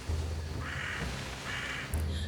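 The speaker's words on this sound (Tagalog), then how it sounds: "Sa kalayuan, nagsimula ang huni ng ibong tiktik." A tiktik bird calls in a horror film scene at night, with a harsh, croaking caw repeated a couple of times over a low, droning ambient background.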